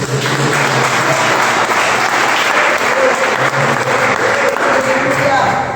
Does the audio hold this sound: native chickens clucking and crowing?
no